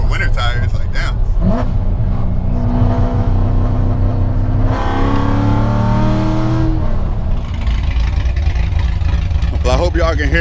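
A loud Chevrolet Corvette C5 engine runs nearby, a steady low rumble that swells into a rev in the middle, with people talking over it throughout.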